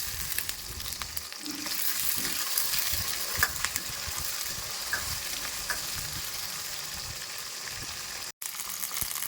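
Small shallots and curry leaves sauté in hot oil for a garlic kuzhambu, a continuous close sizzle broken by soft stirring scrapes and one brief dropout near the end.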